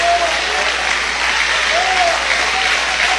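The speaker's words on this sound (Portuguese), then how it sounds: "Eu quero ouvir palmas misturado com glória a Deus." A church congregation claps loudly and continuously in a dense, sustained wave of applause, with voices calling out faintly beneath it.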